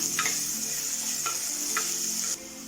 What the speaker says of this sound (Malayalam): ഉള്ളിയൊന്ന് നന്നായിട്ടൊന്ന് മൂപ്പിച്ചെടുക്കാം